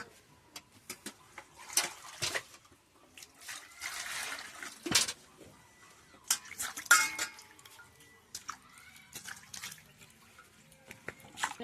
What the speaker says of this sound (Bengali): আলুটাকে একটু ধুয়ে নি, তারপরে কাটবো।